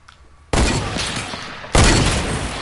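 Two loud, sudden bursts in the Fortnite video game, fitting FAMAS and heavy shotgun gunfire, each starting sharply and lingering with a rough, noisy tail, heard alone without talk.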